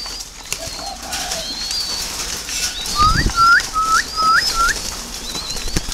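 Young spotted doves in a crowded multi-tier breeding cage give soft whistling calls, a run of five short rising notes, over steady background noise with a brief flutter of wings.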